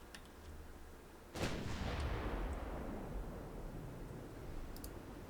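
A naval main gun fires in Ultimate Admiral Dreadnoughts, a single loud booming report with a long rumbling tail that fades slowly over several seconds, alone with no voices.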